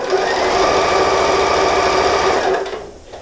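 Sewing machine running a half-centimetre seam through folded interfacing for a bathroom rug patchwork kit: a loud, rapid, steady mechanical chatter of stitching close by, winding down and stopping just before the end.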